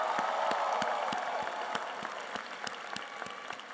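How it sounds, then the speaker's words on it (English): An audience at a graduation ceremony claps, a dense burst of applause that starts full and gradually thins, with individual claps becoming audible, heard from within the crowd. "Come on, graduates, let's give them a round of applause."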